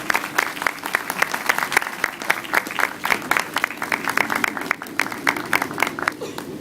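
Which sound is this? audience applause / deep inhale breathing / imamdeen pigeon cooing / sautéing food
audience applause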